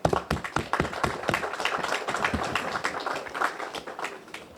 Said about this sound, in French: Je veux aujourd'hui demander à vous tous ici présents d'applaudir celles et ceux qui assurent notre sécurité au quotidien.